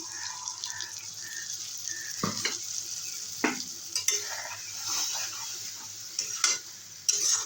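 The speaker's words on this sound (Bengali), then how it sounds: "এবারে অনবরত কিন্তু নেড়ে রাখতে হবে না হলে নিচে ধরে যাবে" Sesame, cashew and poppy seed paste thinned with water bubbles and sizzles in a pan under continuous stirring. Spoon scrapes and clinks cut in now and then over the steady frying hiss, with no talk.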